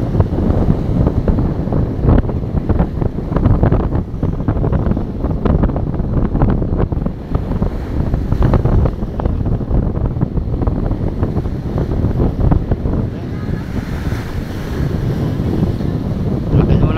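Strong typhoon wind buffets the microphone in a constant roar over the coast at Navotas, with the wash of waves underneath and no clear voices.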